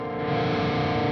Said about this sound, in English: That sounds really bad with distortion.